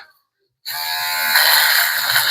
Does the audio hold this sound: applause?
no